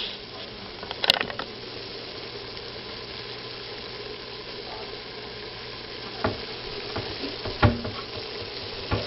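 Ground meat with chili powder sizzles steadily in a pan while being stirred, a constant close frying hiss broken by a few clinks and scrapes of the spoon against the pan.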